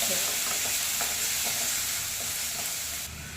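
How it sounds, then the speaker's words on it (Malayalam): Tomatoes sauté in a pan for gooseberry rasam, giving a steady broadband sizzle with soft scraping stirs at intervals throughout, close and moderately loud, with no talking. "അധികം നമ്മൾ വേവിക്കണ്ട, ജസ്റ്റ് ഒന്ന് വഴറ്റിയെടുക്കാം."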